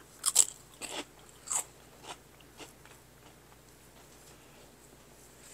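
Crunchy Aldi apple veggie straws bitten and chewed up close: a few sharp, loud crunches early on, then softer, fading chewing crackles with no talking.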